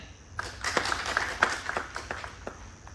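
An audience at a talk on the Mahabharata and Bhakti yoga breaks into clapping, a dense patter of claps building quickly and holding steady, moderately loud in a room.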